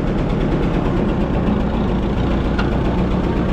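A mini bike engine with carburetor problems runs as the rider shifts down a gear, producing a loud, steady, rough engine drone heard up close without a break.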